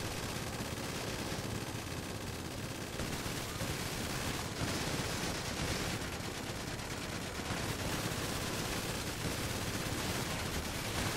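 Gunfire rattles through a GTA 5 Online winter vehicle mission, a dense, steady barrage of shots and blasts that stays loud and continuous throughout with no talk.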